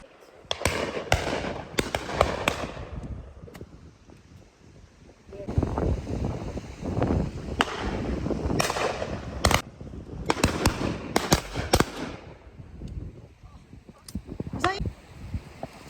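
Shotguns fire on a driven game shooting day in the field, a string of sharp, loud cracks scattered across the clip, some in quick pairs, over wind noise and with people talking between shots.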